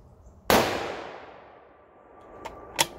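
A single sharp rifle shot from a Howa 1500 firing ELD Match ammunition, with a loud crack followed by a long fading echo, then two fainter distant clicks or impacts.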